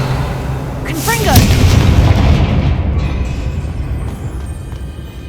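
A Confringo blasting spell from Hogwarts Legacy bursts in a loud booming explosion with crackling, whooshing magical effects, then a rumbling tail that fades over several seconds.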